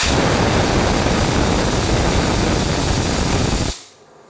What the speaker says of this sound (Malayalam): ഇപ്പോൾ രണ്ടാമത്തെ സ്റ്റീം വന്നു